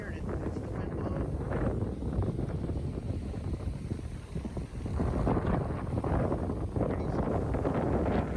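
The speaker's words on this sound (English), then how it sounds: "we get there and it is super windy" Strong wind at a beach on Maui buffets the microphone in continuous roaring gusts, loud and close, with a brief lull midway before it surges again.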